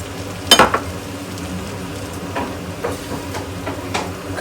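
Kerala-style beef fry with crushed fennel sizzling steadily in a pan, a continuous frying hiss broken by scraping and stirring knocks from the spoon, close and moderately loud.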